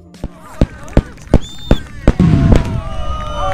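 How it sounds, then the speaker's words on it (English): Grand finale of a fireworks show at the Sun 'n Fun 2019 airshow, with a rapid series of sharp booming bursts that build into a dense, continuous roar of overlapping explosions and crackle. "Number 3 bursts into view as the fireworks show"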